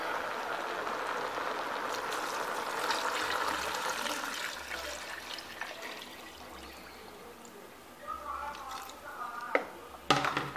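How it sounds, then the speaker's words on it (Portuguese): Water pours from a tap into a pot of beans, a continuous splashing trickle that softens and changes pitch as the pot fills, ending with a few clinks. "Agora eu vou acrescentar a água."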